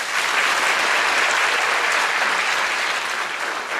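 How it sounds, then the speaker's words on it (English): Graduation ceremony audience at Luther High School gives student council officers a big round of applause, a dense, loud, steady roar of clapping from many hands lasting the full stretch. "Let's give them a big round of applause."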